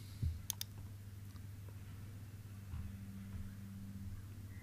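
Computer mouse clicks on a Windows 11 desktop, a couple of faint, sharp clicks early on against a quiet low hum.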